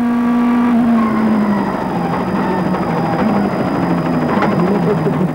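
A rally car on a fast straight at the Rally of Catalonia screams past at about 214 km/h, its engine note high and steady before it falls away as the driver brakes, all close and loud.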